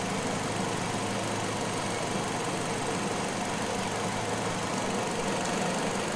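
Hyundai car engine idles with the electrical load switched on during an alternator test, a steady close mechanical drone with a low hum and constant rattle and no talking.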